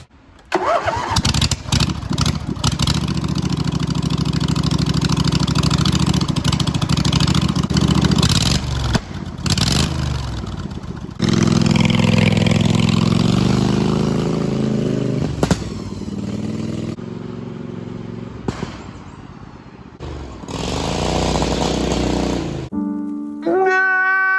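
A race lawn mower engine fitted with new coils cranks and catches, then runs loud and close with a sputtering, uneven idle, revving in bursts and cutting out several times before restarting.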